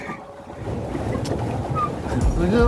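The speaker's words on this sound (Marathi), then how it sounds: "आमची बोट आता तुम्हाला धडकणार आहे" A motorboat on Manoli dam lake draws closer, a steady engine rumble with wind and water noise that grows slightly louder toward the end.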